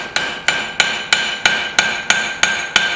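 Hammer forging a short, steep bevel into a hot knife blade made from scrap steel: nine sharp, evenly spaced ringing blows about a third of a second apart, close and loud with nothing else heard.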